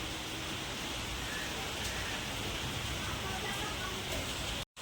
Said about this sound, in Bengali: কি সাংঘাতিক বৃষ্টি হচ্ছে